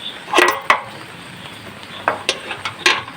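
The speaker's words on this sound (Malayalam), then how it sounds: "നമുക്ക് കുറ്റിയിട്ടിട്ട് പോകാം" A few sharp metallic clacks and scrapes of a gate latch being bolted, spaced irregularly, close by.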